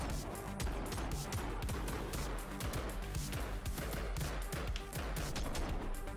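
Rapid, dense gunfire from the rhythm shooter game Robobeat, the shots falling in a driving beat along with the game's music, loud and continuous throughout.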